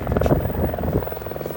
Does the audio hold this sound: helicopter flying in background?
yes